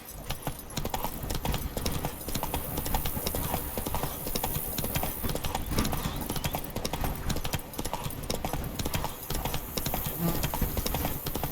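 A horse galloping in The Witcher 3: Blood and Wine, rapid rhythmic clip-clop hoofbeats up close and steady throughout, with faint game ambience underneath.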